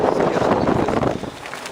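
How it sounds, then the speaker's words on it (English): Strong wind roars across the exposed granite summit of Steeperton Tor on Dartmoor during a gale, buffeting the microphone in a loud, steady rush that eases slightly toward the end. "It's very windy up here on Steeperton Tor this morning."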